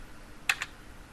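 A couple of quick keystrokes on a computer keyboard while typing a web address, two close, light clicks over a quiet background.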